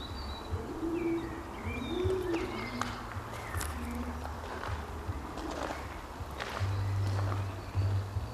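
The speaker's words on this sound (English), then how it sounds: "There's always loads of pigeons under this particular bridge." Pigeons coo softly under a canal bridge, with repeated low throaty calls and a few chirps from other birds over a steady outdoor background.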